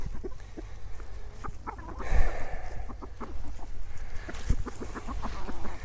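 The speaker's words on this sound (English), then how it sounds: "I'm gonna let the chickens out." Chickens clucking and cackling as they are let out of their coop in the snow at an off-grid homestead, with repeated short clucks near and far over a steady outdoor background and a couple of louder bursts.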